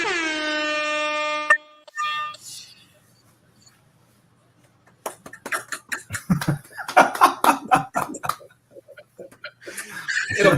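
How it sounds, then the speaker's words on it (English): A loud air horn blares in one sustained blast on a podcast, then cuts off, followed by a quiet gap and then people talking and laughing. "So here's an air horn for you"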